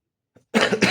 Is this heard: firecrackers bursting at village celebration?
no